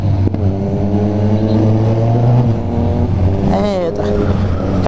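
Motorcycle engines rev and accelerate hard on a São Paulo street near the Minhocão, a loud close drone whose pitch climbs and drops, with a voice talking over the engine noise.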